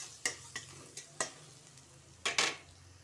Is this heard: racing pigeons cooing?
no